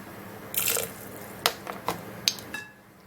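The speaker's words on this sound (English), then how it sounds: "now I'm going to be putting in 2 tablespoons of apple cider vinegar" Two tablespoons of apple cider vinegar are poured into a blender jar, a brief close trickle followed by several small drips and taps.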